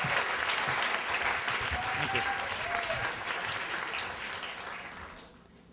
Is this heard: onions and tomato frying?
no